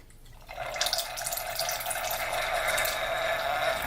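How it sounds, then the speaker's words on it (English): A wine aerator hisses and gurgles as Ménage à Trois pinot noir pours through it, a sudden airy rush starting after a short quiet moment and continuing steadily up close. "Hear that sound? That's the aerator sound."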